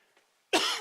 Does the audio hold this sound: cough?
yes